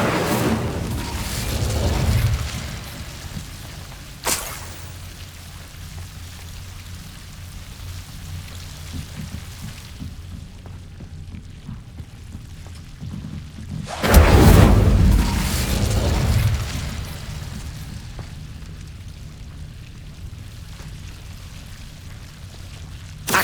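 Incendio fire spell cast in Hogwarts Legacy on PS5, with loud whooshing bursts of flame near the start and another strong bursting surge midway, separated by a brief sharp crack and quieter ambient rumble.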